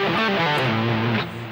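A distorted electric guitar rips through a quick pentatonic lick descending in groups of five, a fast run of slurred notes lasting about a second, loud and close.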